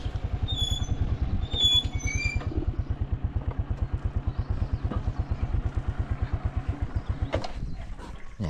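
A motorbike engine idles steadily just after arriving at a house, with a close, even low thumping rhythm and no talking.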